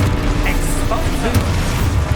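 A loud, dense Expulso spell explosion bursts through Hogwarts Legacy battle sounds, a heavy rumbling boom that fills the whole moment amid other combat noise and a voice.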